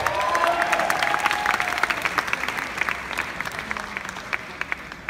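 An audience at a Cinemalaya gala night claps steadily with scattered cheers, a fairly distant crowd sound that slowly fades while a voice briefly carries over it.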